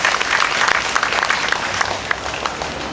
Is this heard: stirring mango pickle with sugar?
no